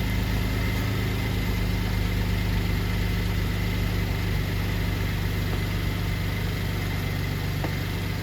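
A GMC Acadia engine idles steadily with exhaust leaks, a continuous low rumble with a faint hissing puff from the leaking joints, close and unbroken throughout, with no talking.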